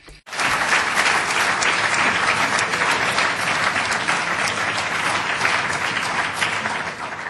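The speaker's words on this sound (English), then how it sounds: "The loudest applause, to begin with, came from Mr. Cohn-Bendit" Loud, sustained applause from a large audience at a European Parliament conference starts abruptly and continues evenly, a dense wash of clapping with no voices standing out.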